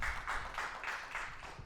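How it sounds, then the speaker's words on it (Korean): Faint, steady applause from a forum audience in a university hall, the claps blurring into a soft continuous patter that holds for the whole moment. "큰 박수를 맞이하겠습니다"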